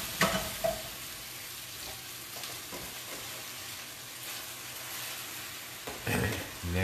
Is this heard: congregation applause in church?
no